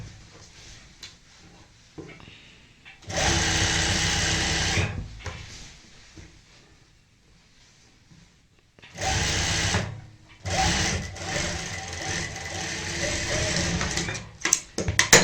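A sewing machine stitches the seam of a palazzo skirt in two long bursts of steady whirring motor noise, close and loud, separated by a quiet pause with faint handling sounds.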